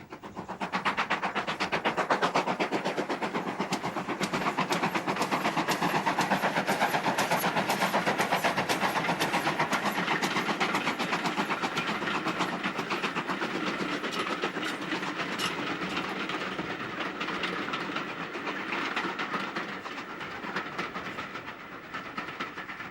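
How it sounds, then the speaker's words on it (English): GWR modified Hall class steam locomotive No. 6960 Raveningham Hall runs past close by with loud, continuous rolling clatter and rhythmic wheel beats, steady for the whole stretch and fading slightly at the end. "Another Great Western locomotive, modified Hall class, number 6960, Raveningham Hall"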